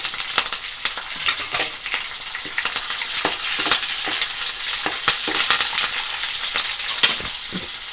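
Curry leaves crackle and sizzle in hot oil for a fenugreek dish, a bright continuous frying hiss broken by sharp pops and intermittent stirring scrapes, close and loud with no talking.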